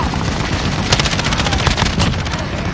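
Dense rapid gunfire rattles in a Call of Duty Modern Warfare Ground War match, with loud overlapping bursts and cracks crowding the whole moment with no pauses.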